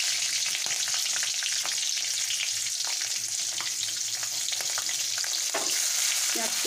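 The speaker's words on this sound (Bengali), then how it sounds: "এবারে আমি কাঁচা লঙ্কাটা দিয়ে দিলাম।" Green chilies frying in hot oil with five-spice tempering crackle and sizzle loudly and steadily, with spitting pops throughout and no talk.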